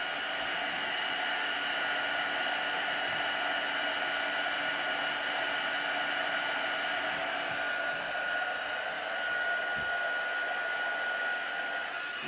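A heat tool blows a steady, unbroken whooshing hum while melting clear embossing powder on a reindeer Christmas card, holding a constant level with no voices.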